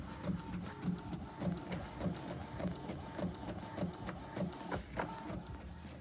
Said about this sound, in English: using the Epson ET3850 to print all of my printables